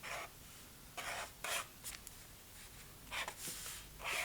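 Acrylic marker strokes drawn across paper, several short scratchy bursts of writing separated by pauses, faint and close with no talking.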